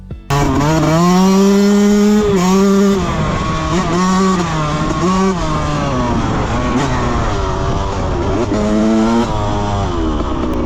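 A Yamaha YZ125 dirt bike engine revs hard and close as the clutch slips, its pitch climbing and dropping in repeated surges, loud and continuous like a dirt bike pulling away.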